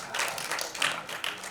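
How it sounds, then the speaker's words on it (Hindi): Applause and clapping from a live audience at a celebrity event honoring comedians, a dense broadband patter of many hands filling the short stretch with a few louder swells. "चांद सुल्ताना जी के लिए जोरदार ताली हो जाए"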